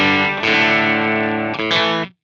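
Sustained, heavily distorted electric guitar chords played through a Line 6 HX Stomp's Boogie Mark IV amp model, loud and dense with a brief change near the end before cutting off.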